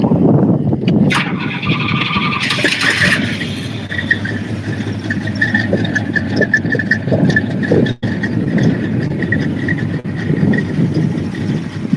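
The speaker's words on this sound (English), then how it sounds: "I can start this one up for you just to give you some sort of an idea." A second-year Pontiac GTO muscle car cranks and fires up, then settles into a loud, rumbling idle with a steady engine drone and a few throttle blips, close by outdoors.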